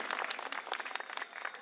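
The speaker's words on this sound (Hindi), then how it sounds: "पहले जोरदार तालियां बजाइए" A crowd at an Aam Aadmi Party public rally in Adarsh Nagar, Delhi claps in dense, uneven bursts of close, crisp hand claps for a brief moment.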